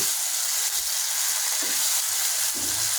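Chopped tomatoes fry in a hot pan, giving a continuous loud sizzle and hiss with a few soft stirring knocks and no talk.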